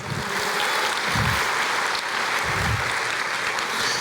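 A church congregation applauding during a Portuguese-language sermon, dense sustained clapping from many people filling the room evenly, with low rumbling bursts underneath.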